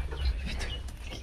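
A rooster and hens at a village henhouse beside a vegetable and maize farm in the Sundarbans give faint, brief clucking calls over a low, steady background rumble.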